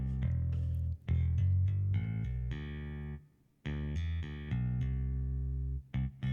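A bass line runs through a Neve 1073-style preamp emulation, heavy in the deep low end with a little finger click on top and light saturation, playing short, sustained notes close and loud with one brief gap.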